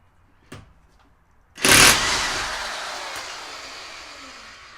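A Chicago Electric plug-in impact wrench bursts loudly into action while removing a wheel nut, a sudden rattling hammer that then fades out slowly, preceded by a couple of faint clicks.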